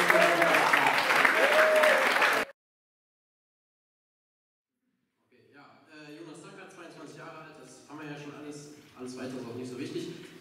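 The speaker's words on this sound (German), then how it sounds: "Bitte nochmal einen großen Applaus." School audience at a panel discussion on the European election applauds loudly and steadily for about two seconds, then it cuts to silence before people start talking.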